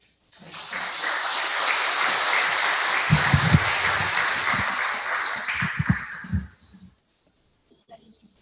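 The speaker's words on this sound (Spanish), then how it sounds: "Un aplauso." Audience applause for a speaker about to give a talk on dams and the environment, a dense burst of clapping that rises quickly, holds for about six seconds with some heavier thumps, then stops abruptly.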